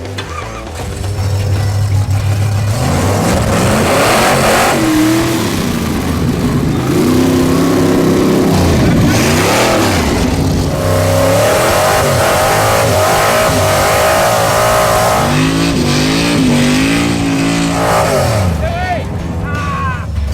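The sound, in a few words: old drag race car engine revving while driving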